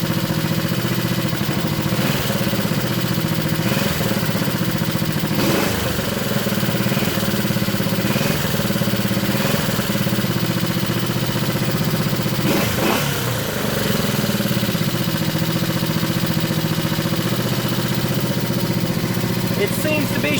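A Honda CB350 motorcycle engine runs continuously while being shifted through its gears, holding a steady mid-pitched drone with slight rises and dips and a couple of brief surges; a voice talks over it at times.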